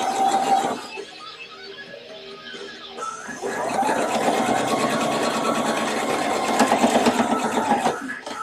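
A sewing machine stitches along the bottom hem of a Victorian-style evening dress, a steady mechanical whirring that runs briefly, pauses, then resumes for a longer continuous stretch at close range.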